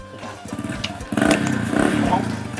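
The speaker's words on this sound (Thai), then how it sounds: "เสียงรถดัง" A loud motor vehicle engine roars past nearby, rumbling and rising, with voices talking underneath.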